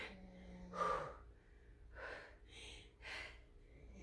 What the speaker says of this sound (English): If you can hear snoring in the background, that's just the dog